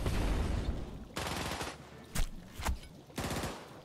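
Cannons firing in the strategy video game Kingdoms Reborn, several loud blasts in irregular bursts, each dropping into a rumbling tail before the next volley.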